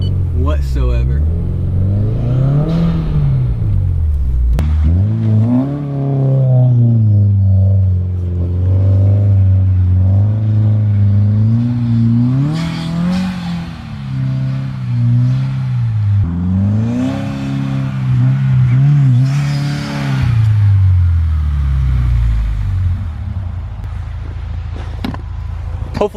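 Subaru WRX engine revving hard in snow as the wheels spin for traction, repeated rising and falling revs close to the microphone with wheel and tire noise, loud throughout.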